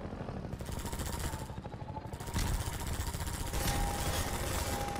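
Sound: helicopter boss in Half-Life 2 video game

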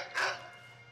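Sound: dog barking in the video game Skyrim

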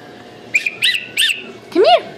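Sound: child blowing a toy whistle

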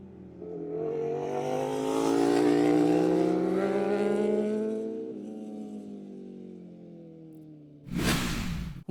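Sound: racing motorcycle engines

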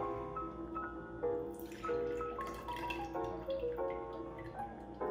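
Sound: pineapple juice being poured out of a hollowed pineapple

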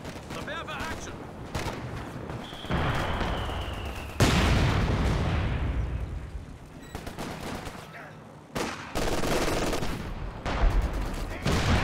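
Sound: howitzer artillery fire in Company of Heroes 2 video game

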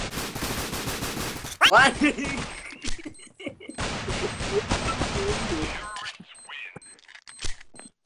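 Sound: gunfire in the video game Critical Ops

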